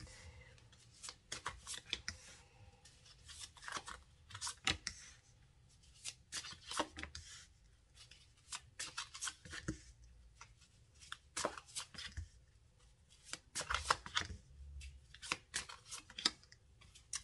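Tarot cards are shuffled and dealt out for a reading, close papery riffles, rustles and soft slaps that come in quick bursts across the whole stretch, quiet and without talk.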